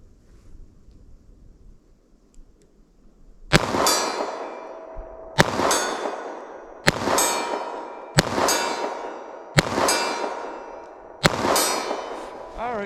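Six sharp revolver shots fired outdoors, a janky Taurus revolver cracking loudly at steady intervals of about a second and a half, each with a ringing metallic tail and light wind noise between.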